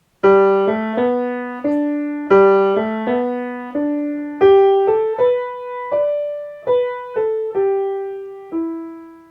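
A solo piano plays a melody slowly in three-beat phrasing, each note struck cleanly and decaying, with low accompanying notes underneath.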